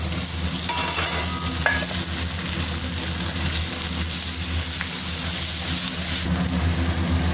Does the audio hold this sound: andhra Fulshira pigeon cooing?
no